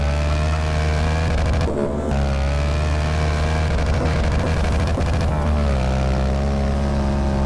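Yamaha MT-07 motorcycle fitted with a pre-cut exhaust, revving in GTA San Andreas as a loud, steady engine drone with harmonic whine and a brief dip near the middle, continuous throughout.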